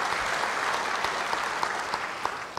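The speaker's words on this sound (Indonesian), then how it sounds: "beri tepuk tangan bagi dia" Applause from a church congregation during an Indonesian sermon, a dense, steady wash of many hands clapping at moderate distance for the whole stretch, with no voices standing out.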